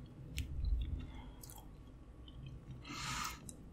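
Close, quiet mouth sounds of someone eating king crab and elote corn with a flaming hot coating: soft wet chewing and a crunchy bite burst near the end, without talk.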